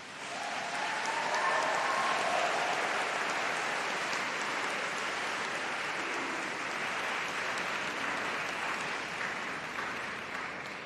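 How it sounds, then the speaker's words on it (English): Graduates at a university summer congregation give a long, sustained round of applause to their tutors and support staff, a broad, even wash of clapping from a large hall crowd that eases slightly near the end. "give a huge round of applause of thanks to those colleagues who supported you"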